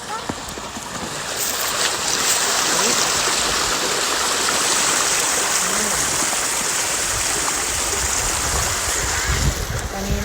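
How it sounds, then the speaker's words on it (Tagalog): A stream of water flows in a steady, broad rushing wash near someone walking outdoors past vegetable plots, loud and continuous, with a person talking briefly over it. "Ang tubig oh."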